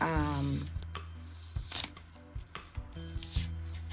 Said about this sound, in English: we're going to go ahead and remove the tape